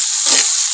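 Finely chopped carrots frying briefly in a pan, a short burst of steady close hiss with a faint scrape near the end.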